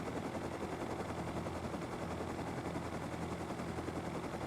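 Helicopter flying in the video game Rust, a steady loud rotor and engine drone with rapid chopping texture running continuously throughout, no pauses or talk.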